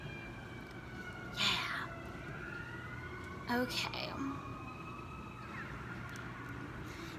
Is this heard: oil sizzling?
no